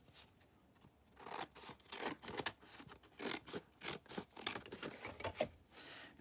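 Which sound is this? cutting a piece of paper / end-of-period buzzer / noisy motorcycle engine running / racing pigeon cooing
cutting a piece of paper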